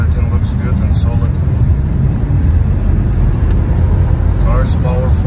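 A Rolls-Royce on a test drive after engine repair for a Vanos cam adjuster fault: a loud, steady interior rumble of engine and road noise, continuous throughout with a few brief higher-pitched squeaks.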